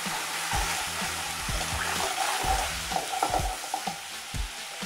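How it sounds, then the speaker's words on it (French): Sugar and vinegar heat in a pan over high flame as they begin to caramelize, giving a steady close sizzle with soft stirring scrapes and a few sharper crackles toward the end. "je mets mon feu à fond et je vais attendre que ça caramélise un tout petit peu"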